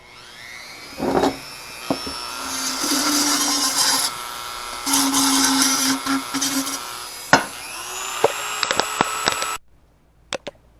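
A handheld power tool whines in two long sustained runs while trimming and smoothing a homemade gas mask canister, with clicks and knocks between runs, close and loud, ending in near silence.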